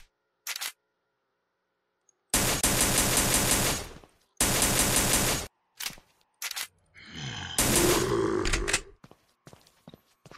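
Video game gunfire from the game Invention: loud, sharp bursts of rapid shots, each lasting a second or two, split by short silences, with a final longer burst mixed with clatter.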